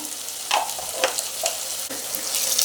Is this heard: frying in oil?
yes